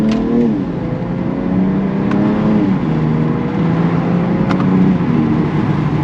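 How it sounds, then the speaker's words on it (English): A 2021 BMW X3 M Competition's engine pulling hard as its 8-speed gearbox shifts, the rising drone dropping abruptly at each change, loud and close from inside the cabin. "shifts in this 8-speed are mad crispy too"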